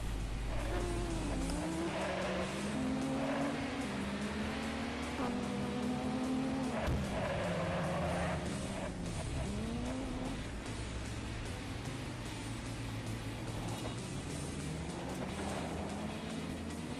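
Racing buggy engines whine and rise in pitch through gear changes over continuous tire and motor noise in the Dreamcast racing game Buggy Heat, loud and steady with no talking.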